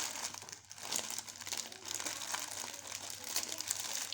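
A stiff Indomie instant noodle packet being torn open, with continuous crisp plastic crinkling and rustling held up close for about four seconds, no voices.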